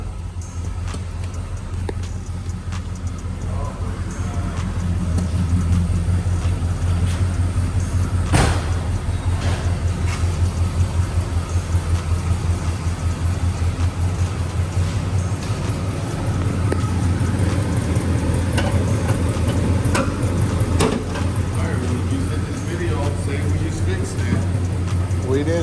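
A 1972 Oldsmobile Cutlass engine idles with a steady, close, low rumble throughout, with people talking over it in a garage.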